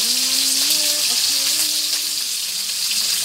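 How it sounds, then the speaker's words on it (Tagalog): Fish sizzles and crackles in hot oil in a pan, a steady close frying hiss throughout, with a faint tonal hum underneath. "Pritong isda muna, bago."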